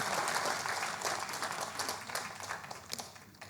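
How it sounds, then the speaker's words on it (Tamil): An audience at a Tamil golden jubilee event applauds steadily, a dense wash of many hands that gradually thins toward the end. "நீங்கள் இன்னும் கூட கைத்தட்டலாம்"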